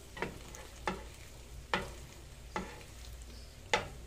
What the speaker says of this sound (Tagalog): dito ko na rin igigisa yung aking, lulutuing ampalaya